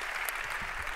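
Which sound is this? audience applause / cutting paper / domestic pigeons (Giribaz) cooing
audience applause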